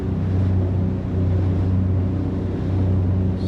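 A 1971 Concord 30 sport fish boat cruising on one engine, a steady low droning motor hum with constant water and wind rush, loud and continuous throughout.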